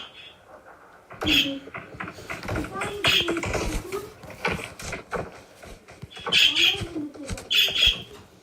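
A nearby bird calls repeatedly in short bursts of chirps and squawks, loud and insistent, mixed with a person talking over it.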